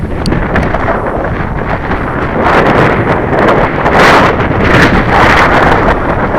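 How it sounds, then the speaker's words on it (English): Wind buffets the microphone at an RC model flying field on a breezy day, a loud, continuous rough rumble and hiss that swells and gusts throughout with no voices. "That's quite a breezy day"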